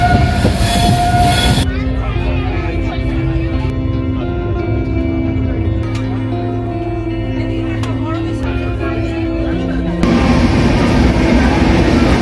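Loud, steady rumble of the 12822 Puri–Shalimar Dhauli Express standing at platform 4 of a station, with sustained droning machine tones and a brighter hiss swelling at the start and end.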